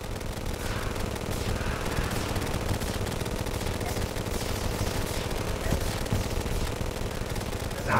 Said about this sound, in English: We got a candy corn rifle now.